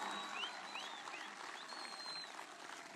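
An audience applauds at a public address by Armenian Prime Minister Pashinyan in Lori province. The clapping is dense and steady for the whole stretch, with a few thin whistles rising above it.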